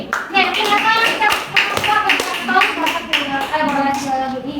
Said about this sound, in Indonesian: tepuk tangan untuk yang menanggapi